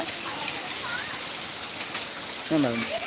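Heavy rain pours in a constant hiss close by, a broad even wash of falling water; a voice briefly speaks over it near the end.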